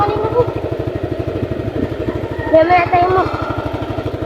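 A motorcycle engine idles and putters in a steady rapid chug close by while being brought in to park, with people talking over it.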